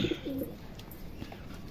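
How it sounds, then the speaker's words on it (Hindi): Loft pigeons, fed millet to stay strong in winter, coo in a low rolling phrase near the start, followed by quieter bird sounds and faint rustling. "फिलहाल आप देख सकते हैं हमारे कबूतर काफ़ी एक्टिव और ठीक फील कर रहे हैं"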